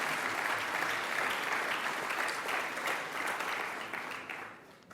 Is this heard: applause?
yes